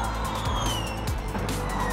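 Formula E electric race cars rushing along a street circuit after a restart, a steady loud whine with rising and falling pitch sweeps as cars pass close by, over constant low rumble and crowd-like wash.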